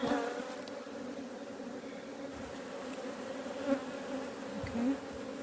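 Steady droning buzz of many honey bees close by at the hive, a continuous hum with a couple of brief louder swells.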